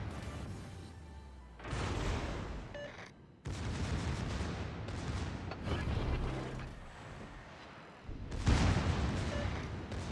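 Secondary guns of a Tier VIII Pan-American premium battleship in World of Warships fire at a French ship, loud booming salvos in several long bursts with mechanical clatter between them, and no talking.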